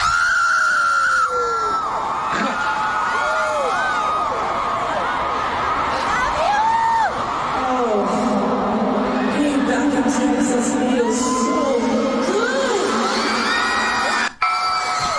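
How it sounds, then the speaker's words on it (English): A girl screams again and again at high pitch, with rising and falling wails over a loud, cheering, laughing crowd, and voices shouting throughout. "just listen to the girl screaming"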